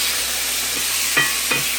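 Chicken pieces for a stir fry sizzle steadily in a pan, a constant bright frying hiss with two short scraping stirs near the end.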